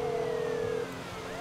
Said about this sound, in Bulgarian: Ориентирайте се по сирените ми. По сирените се ориентирайте.